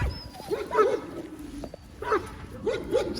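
Presa Canario dogs give short whimpering yips and barks in three brief bursts, fairly close, over a rough outdoor background, with faint talk in the background.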